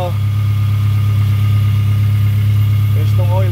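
A 2017 Suzuki APV van idles steadily right after an oil change, a loud, even mid-pitched engine hum with constant vibration close by, and a brief voice near the end.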